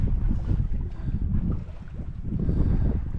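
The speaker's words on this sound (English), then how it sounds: "Winds have picked up from astern to about 10" Steady wind buffeting and rushing over a sailboat under sail on Lake Ontario, with a following breeze of about 10 knots from astern; a continuous, fairly loud low roar that swells and eases, with no voices.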